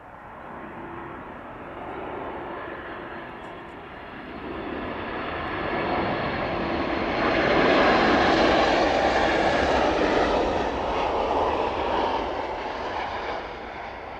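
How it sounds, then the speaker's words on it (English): An airliner lands at East Midlands Airport in the evening, its jet engine roar swelling as it passes near, peaking midway, then slowly easing off with a broad rushing tone. "Landing into East Midlands this evening."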